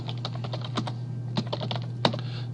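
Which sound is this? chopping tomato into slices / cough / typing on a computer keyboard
typing on a computer keyboard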